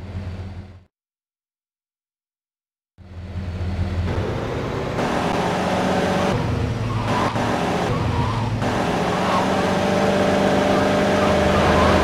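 A car driving in the video game GTA Vice City Stories: after a brief cut to silence, a steady engine drone runs on beneath street noise and a faint siren-like tone, with voices speaking over it.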